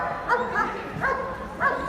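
Police puppies on stage at Crufts give a few short, high yips and barks in quick succession, close and fairly loud against a busy hall background.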